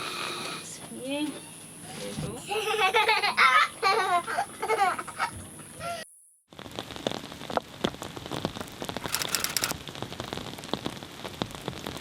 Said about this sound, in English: We've woken up to rain this morning